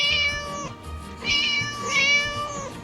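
Three plaintive cat meows sound in a cat-rescue video game set around an angry teacher, each cry clear and fairly close, separated by short pauses over a soft low ambience.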